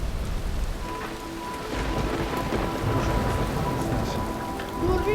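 Steady rain falls on an outdoor Iranian film set, a dense continuous hiss with rumbling low patter throughout and a brief swell near the end, with no talk.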